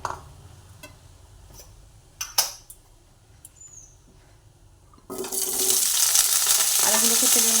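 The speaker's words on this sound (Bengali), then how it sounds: "প্রথমেই এর মধ্যে আলু দিয়ে আলুটা ভেজে নেব" Potatoes drop into a hot pan and begin frying, a few light clinks and scrapes first, then a sudden loud, steady sizzle that continues to the end.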